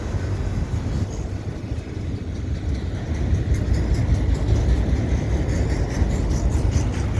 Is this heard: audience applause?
no